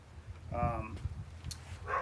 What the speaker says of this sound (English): Dogs start barking when I do a video.